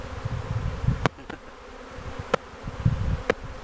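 A swarm of honey bees buzzes steadily and close during a swarm capture in Red Bluff, California. A few sharp clicks and knocks break through the hum.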